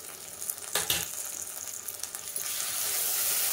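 Onions frying with ginger-garlic paste for mutton keema give a steady broadband sizzle. A brief stirring clatter breaks in near the start, and the hiss grows slightly stronger toward the end, with no voices.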